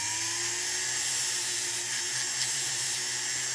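A power hone buffs the cutting edges and inside corner of a carving tool, a steady high whirring hiss of the spinning wheel holding constant and fairly loud throughout, with no voices.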